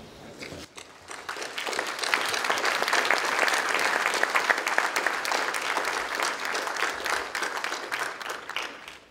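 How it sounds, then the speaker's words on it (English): A large audience at a formal speech breaks into sustained applause, swelling quickly to a dense, even roar of clapping before tapering off at the end. "the countries of the world deserve a big round of applause"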